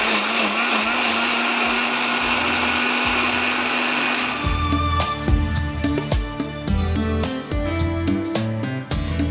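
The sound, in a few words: blender grinding onion and yogurt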